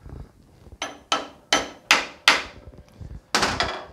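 A hammer taps a tie rod end to seat it, giving six sharp, close metallic strikes at an uneven rhythm, with each blow loud and ringing briefly, and no talking.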